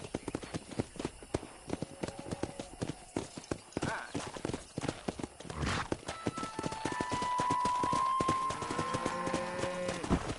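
Horse hooves gallop in a steady clip-clop rhythm in the Western action game Red Dead Redemption, close and continuous, with a horse whinny, in-game voices shouting, and background music rising toward the end.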